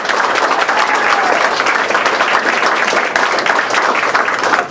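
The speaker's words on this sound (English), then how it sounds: "The applause was probably started by the owner of the establishment" Steady, loud applause fills a campaign stop for a U.S. Senate candidate in Helena, Montana, dense clapping from a crowd in an establishment holding at a constant level for nearly five seconds.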